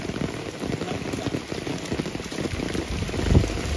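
Rain falls steadily on surfaces outdoors, a dense, close patter of drops with a dull thump near the end and no speech.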